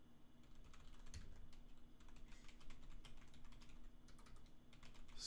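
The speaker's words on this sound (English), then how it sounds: "Excuse my keyboard, I know it's loud." Rapid, faint clicks of someone typing on a loud computer keyboard, steady keystrokes over a low background hum with no talking.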